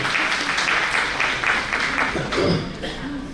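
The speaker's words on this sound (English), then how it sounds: "So let us hear it for ma'am, please. Thunderous applause." Steady applause from a panel discussion audience, a dense wash of clapping that holds for a few seconds, with a voice briefly rising over it.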